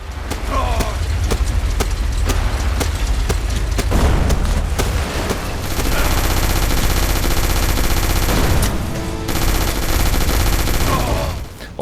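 Relentless arcade-style gunfire in the VR shooter Operation Wolf Returns: First Mission, dense rapid machine-gun bursts and booming blasts layered over a driving soundtrack, loud and continuous throughout.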